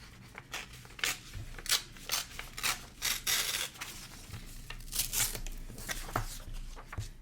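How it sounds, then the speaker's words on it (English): Scissors trimming the white outside edge off a paper bingo card, a close series of crisp snips and rustling paper strokes at a steady rhythm, no talk. "I'm going to trim off the white outside edge."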